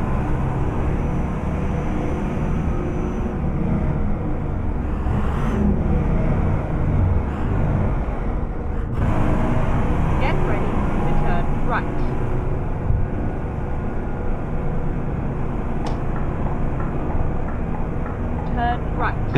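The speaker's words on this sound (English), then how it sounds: "I love the sound of the engine, the engine sounds" A bus diesel engine with a 6-speed transmission drives in American Truck Simulator, a steady low rumble filling the whole stretch with faint road noise and occasional light clicks over it.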